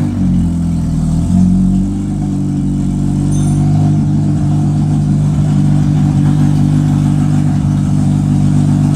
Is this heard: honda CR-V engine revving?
yes